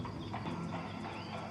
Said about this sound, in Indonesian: Dari atas awan itu aku melihat kereta kuda Mak Rompang menuju kemari.